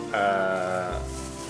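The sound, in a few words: sheep bleating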